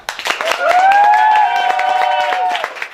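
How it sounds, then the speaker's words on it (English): At an improv comedy show, a crowd claps steadily and cheers loudly, with drawn-out whoops and shouts riding over the continuous applause for nearly three seconds before it tapers. "Okay, audience applause again. Cheer as loud as you want"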